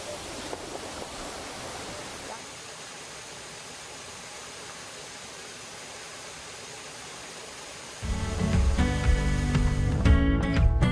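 Wonang waterfall on Jeju pours in a steady broadband rush, loud and close, rising sharply in force partway through as the roar swells.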